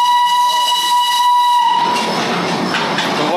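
A Darjeeling steam train whistle blows a loud, steady, piercing tone nearby for nearly two seconds, then gives way to a broad, rushing hiss of released steam.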